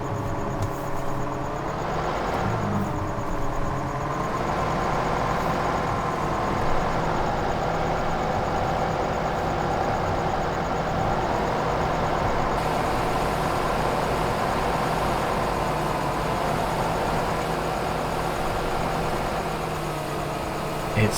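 Tractor engine in Farming Simulator 2015 running at a steady idle, a continuous low drone with slight pitch shifts near the start, moderately loud throughout without talking.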